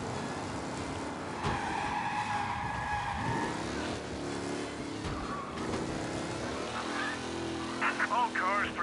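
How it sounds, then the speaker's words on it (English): A race car tears through city streets in a 1930s-style game setting, its engine roaring loud and close with long, sustained tire squeals as it skids through turns, while a police radio voice talks over it. "Officers reporting a race car driving at speed through the city"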